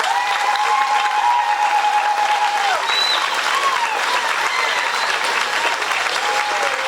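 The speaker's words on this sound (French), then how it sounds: "nous acclamons nos parents" A congregation at a Catholic thanksgiving Mass for the Marist Brothers breaks into sustained, dense applause that stays loud and even throughout, with a few cheers rising above it.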